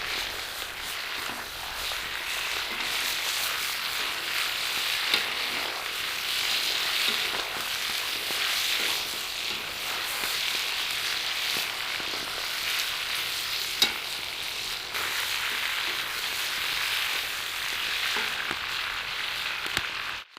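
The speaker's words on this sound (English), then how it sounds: "put the meat into the oil so that so that it sears and doesn't release its juice" Meat for Uzbek plov sears in hot oil with a steady, dense sizzle that runs unbroken from start to end. A few faint scrapes and clicks rise over it, and no one speaks.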